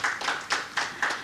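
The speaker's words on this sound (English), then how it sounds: "A big round of applause for John Brown on that." Five or so claps in a quick, even rhythm, close and fairly light, like a brief burst of applause.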